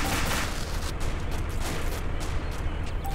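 Dense gunfire and booming explosions fill a military video game battle near a town, with overlapping shots and blasts forming a loud, continuous roar.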